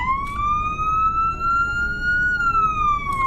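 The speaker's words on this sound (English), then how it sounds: "Police light test. First siren." A 2020 Chevy Tahoe Sheriff police car in a video game sounds its first siren, a loud, clear wail that rises slowly, holds, then falls over a few seconds, alone and up close.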